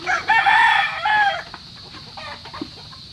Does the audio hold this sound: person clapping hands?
no